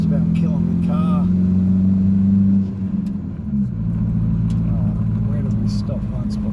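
A car's engine drones low and laboured as it climbs a very steep hill toward a rural property, a strained steady hum that dips and shifts midway while someone talks over it.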